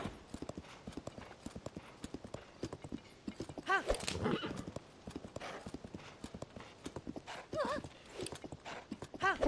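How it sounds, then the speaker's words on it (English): A horse in Zelda: Tears of the Kingdom trots with a steady, close clip-clop of hooves and lets out two whinnies. Faint game sounds sit underneath, and no one talks. "What's that? A horse?"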